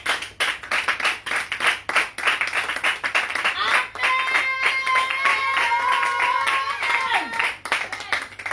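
A church congregation clapping in a fast, steady rhythm, loud and close, while a voice speaks over the clapping and musical tones sustain partway through.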